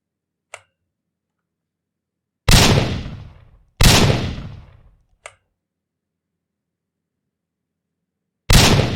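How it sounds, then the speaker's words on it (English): Grenade explosions in a Unity first-person shooter game boom twice in close succession, then once more, each blast loud and decaying over about a second, with short clicks between them. "this will play the grenade sound each time the grenade is going to explode"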